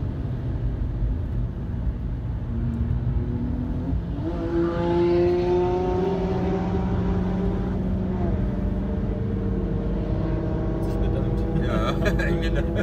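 Car at full throttle on the Nordschleife, engine note climbing steadily through a gear, loud and close from an onboard position, with a voice talking over it.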